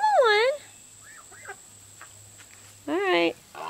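Chickens on a farm with a turkey nearby give two short bursts of harmonic clucking and squawking, loud and close, separated by a quieter stretch with faint bird calls over a low hum.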